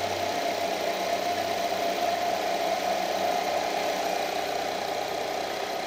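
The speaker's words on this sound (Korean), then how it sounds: "엔진 소리 먼저 한번 들려드릴게요." A cold Nissan Altima 2.5 gasoline engine idles steadily at close range, a continuous even hum with a faint low knock-like tremble running underneath.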